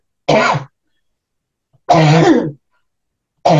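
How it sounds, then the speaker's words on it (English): Three separate bursts of coughing and throat clearing from one person, close and loud, with clear silent gaps between them and no talking. "So I've got a cough again."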